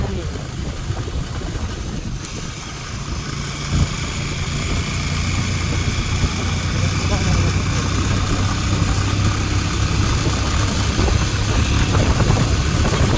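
Motorcycle engine running steadily on a ride to Diktel bazaar, a continuous mid-pitched drone that builds slightly louder partway through and holds close and constant, with no clear speech over it.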